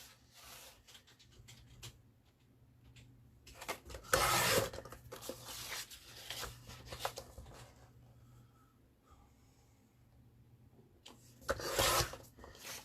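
Gatefold paper for a floating spine mini album is cut in bursts of scraping, rasping strokes, with quieter fiddling between and two louder sweeps standing out near the middle and end.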